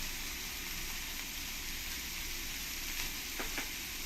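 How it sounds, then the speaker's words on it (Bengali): Green chilli paste sautés with onions, turmeric and salt in a pan, producing a soft, steady hiss with a couple of brief clicks near the end. "দিয়ে ভালো করে আমি পেঁয়াজের সঙ্গে কষিয়ে নেব"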